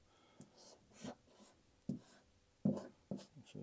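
A water-based graffiti marker scribbles a short tag on paper, giving a run of quiet, close squeaks and scratchy strokes in uneven rhythm with no talking.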